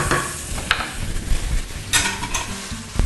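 Mushrooms fry in oil in a kitchen pan, giving a close, loud sizzle broken by scraping stirs of a utensil, with no talking.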